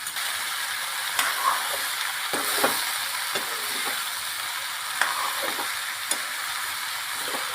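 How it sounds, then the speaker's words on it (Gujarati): Ridge gourd pieces sizzle in oil in a wok while a spoon scrapes and knocks against the metal in repeated strokes over a steady close hiss; no talking. "ગલકાના ફોડવા આપણે કડાઈની અંદર નાખી દીધા છે અને આને હવે ચમસાથી હલાવી નાખીશું"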